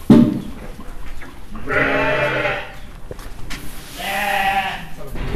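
Goats at a goat farm bleat loudly and close by in two long, wavering calls separated by a short pause, with farm background noise between them.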